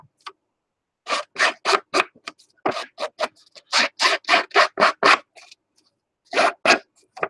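Back of a pair of scissors scraped along paper edges to distress them: close, bursty rasping strokes in quick runs separated by pauses, with no speech over them.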